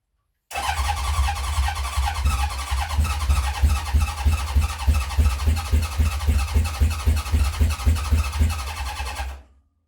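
A 1970 Honda CB750 K0 motorcycle fires up after decades of sitting, catching within a second and settling into a loud, close, rapid burbling four-cylinder idle with a rhythmic pulse, then cutting off near the end.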